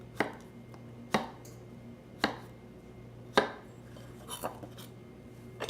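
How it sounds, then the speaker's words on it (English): A knife cuts chicken into quarters for skewers, with four sharp, well-spaced chops on a board against low kitchen hum, followed by softer, lighter cuts. "on these thicker ends, I'm going to cut into quarters"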